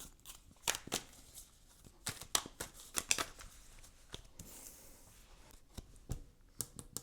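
Tarot cards being shuffled during a pick-a-card reading, giving brisk papery riffles and taps in irregular bursts, close and fairly quiet, with no talking.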